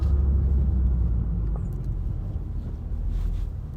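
2024 BMW M2 rolling over a speed bump, a low road rumble with a slight thump and softening of the drone as the car eases across, heard from inside the cabin.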